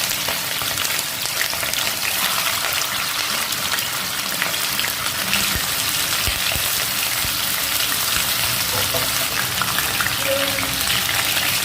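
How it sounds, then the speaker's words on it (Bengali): Chicken pieces for methi chicken fry in a pan with a steady, loud, close sizzle that continues unbroken throughout. "চিকেনের পিসগুলো কয়েকটা করে দিয়ে ভেজে নেব। খুব বেশি ভাজবো না, জাস্ট এপাশ ওপাশ করে একটু ভেজে নেব।"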